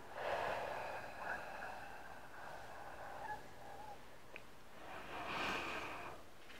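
Forceful exhalations during a hip exercise for bone strength, a few soft breathy blows of air with quiet pauses between, close and faint.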